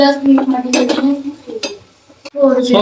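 Green garlic being mixed into boiled potatoes, a few close clinks and scrapes of a spoon against a pot, with a voice humming or talking briefly around them.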